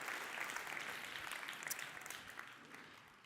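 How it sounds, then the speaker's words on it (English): An audience claps at a high-ticket sales training seminar, a full, steady round of applause that slowly tapers over a few seconds. "Let's give an applause, but we're not finished."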